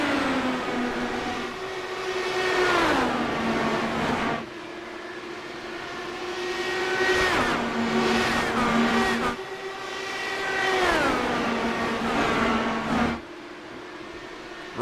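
IndyCars lapping the oval at Iowa, engines rising and falling in pitch as several cars roar past one after another, loud and close, with long sustained engine notes and Doppler drops and no talk.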